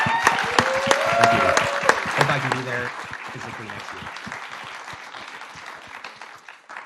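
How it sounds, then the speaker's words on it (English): Audience in Berlin at a pitch contest gives a round of applause, loud clapping that peaks early and then thins and fades, while a speaker talks over it. "a very big round of applause from Berlin"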